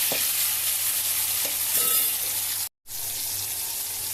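Onion and tomato frying in a pot for sambar, a dense continuous hiss of sizzling with a low hum underneath and a few faint stirring knocks, cut by a brief break of silence partway through.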